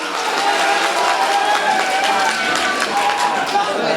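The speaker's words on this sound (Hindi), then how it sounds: "एक बार जोरदार तालियां नदीम साहब के लिए" A crowd applauds at an all-India mushaira in Siwalkhas, Meerut: a loud, continuous wash of many clapping hands, steady throughout, with voices mixed in underneath.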